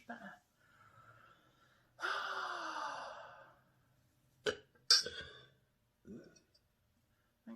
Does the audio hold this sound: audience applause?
no